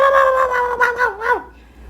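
A cartoon character's voice imitates a dog, giving a few drawn-out, howling bark-like calls that bend in pitch and cut off abruptly, loud and close with nothing else behind them.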